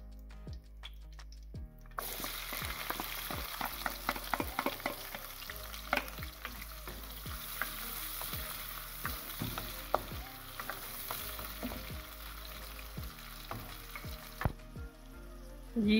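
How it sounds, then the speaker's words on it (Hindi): A large chopped onion frying in half a cup of oil, a steady close sizzle with repeated stirring scrapes and clinks throughout. "ये एक बड़ा प्याज मैंने लिया है, इसको काट लिया। अभी ये ऑयल आधा कप मैंने डाल दिया है इसके अंदर"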